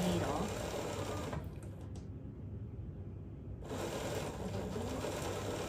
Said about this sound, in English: And then I'm just gonna start sewing again.